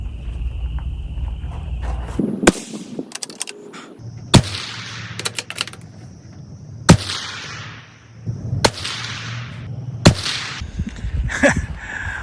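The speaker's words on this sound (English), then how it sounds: "let's take 5 shots at 200 yards and hope for the best" Rimfire rifle fired at targets 200 yards out on an outdoor range, five sharp, loud cracks spaced a few seconds apart, each with a brief echo, over low background noise and no talk.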